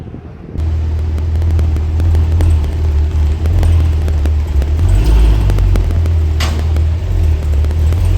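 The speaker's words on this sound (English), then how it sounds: "About to do some dyno testing." A Cadillac CT5-V Blackwing runs strapped down on a dyno, its engine giving a loud, close, steady low rumble with rhythmic pulsing throughout, no voices over it.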